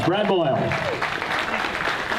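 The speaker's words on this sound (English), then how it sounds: "give him a round of applause" Audience applause for a man being introduced, a burst of clapping under and after a speaker's voice.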